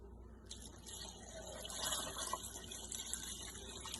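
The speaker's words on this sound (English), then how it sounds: "and 5 cups of water that I pre-measured." Five cups of pre-measured water pour into a soup pot already holding celery, a bay leaf, carrots and bouillon cubes, a steady close liquid splash with no talk over it.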